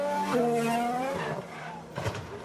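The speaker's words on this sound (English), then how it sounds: "Down the hill, under braking, flat spot of the tyre, locked up, and nowhere to go." A Formula 1 car locks its tyres under braking downhill, a high tonal tyre squeal over engine noise lasting a couple of seconds, fairly close.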